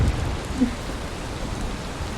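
Steady rain in the game Valheim hisses evenly throughout, a constant wash of falling drops with no voices.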